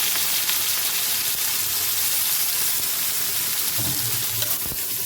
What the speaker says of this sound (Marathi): ह्याच्यात तेल, मिरच्या, टमाटर टाकून द्यायचे पाहिजे